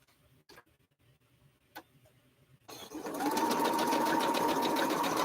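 A sewing machine stitches arrowhead quilt blocks, starting after a few quiet clicks and then running as a steady, fast, close mechanical whir that continues to the end.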